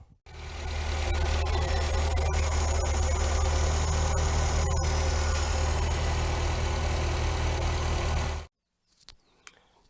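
An engine idles steadily and loudly on a carburetor converted to a new idle jet with a bigger air bleed, running slightly rich. It holds an even rumble for about eight seconds, then cuts off abruptly.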